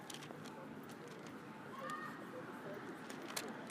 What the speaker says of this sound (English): So then the last thing we have in here is the city sample